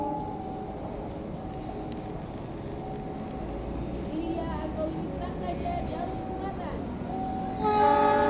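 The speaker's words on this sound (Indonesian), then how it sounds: "persiapan melintas langsung kereta api Argo Wilis Sang Raja jalur selatan dari stasiun Surabaya Gubeng" An Argo Wilis passenger train on the southern line passes at a steady roar, with railcars rumbling by and a horn sounding near the end as the noise swells close.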